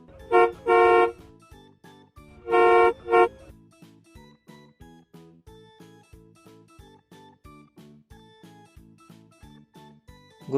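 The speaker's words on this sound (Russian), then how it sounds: "Легковой автомобиль." Passenger car horn honking in two double bursts, loud and close, followed by a soft rhythmic plucked melody running alone through the rest of the clip.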